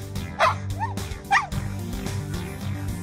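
A puppy gives two short, high yips about a second apart, close and clear over a steady musical backing.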